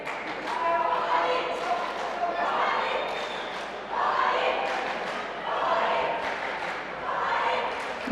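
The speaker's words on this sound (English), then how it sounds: "You can hear the French crowd on mat 1" French spectators cheering at judo mat 1 during a youth Olympic festival contest, rising and falling in swells of crowd noise with a commentator talking over them.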